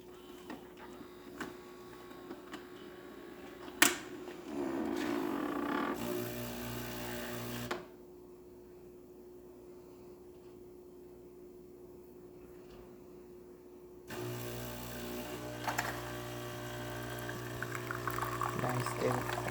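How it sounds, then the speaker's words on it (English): A Gaggia Accademia espresso machine with a new water pump brews espresso: a steady mechanical hum and pump drone with liquid trickling into a small cup, the pump cutting out for a few seconds mid-shot before resuming, and faint talk. "Nice steady flow coming out of the machine"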